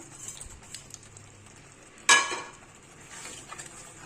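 Tomato pickle with garlic and asafoetida being stirred in a pan, a soft low sizzle broken by one sudden loud scrape or clack of the spoon midway, then quieter stirring.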